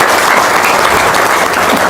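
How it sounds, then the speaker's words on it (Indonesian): Loud, close audience applause during an Indonesian religious talk, a thick continuous clatter of many hands filling the whole moment. "Tepuk tangan dong."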